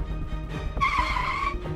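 A car swings hard through a sharp U-turn at speed. Its tires give a loud, sustained squeal for nearly a second over steady engine and road rumble.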